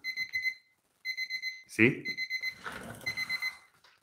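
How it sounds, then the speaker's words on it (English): A 5-minute timer alarm sounds indoors, shrill repeated electronic beeps in short bursts with a brief pause, close and fairly quiet, interrupted by a loud knock and someone speaking over the end. "So there's my 5-minute timer."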